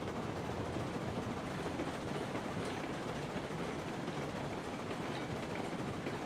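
A locomotive in the Railroads Online game runs along the track with a steady, dense rumble and a faint rhythmic clatter of wheels, loud and continuous throughout with no talking.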